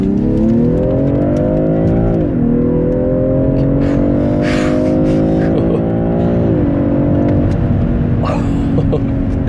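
A 2019 BMW M340i xDrive G20 with 374 hp launches hard under launch control. The engine roars loud and close, rising in pitch through two quick upshifts.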